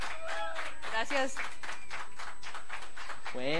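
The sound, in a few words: audience applause for a singer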